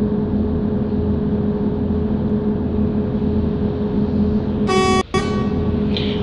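A pink bus on a Delhi to Jaipur route in Bus Simulator Ultimate drones along before a single short, loud horn blast sounds near the end.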